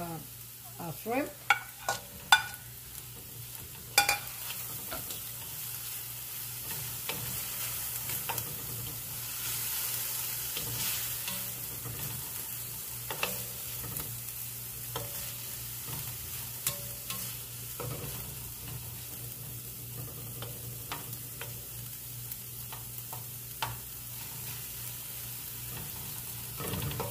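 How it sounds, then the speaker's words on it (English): Shrimp fry and sizzle in a pan for pancit bihon while being stirred, a steady low hiss broken by scattered scraping and clicking utensil strokes, busier at the start and settling down later. "I'm gonna add our shrimp."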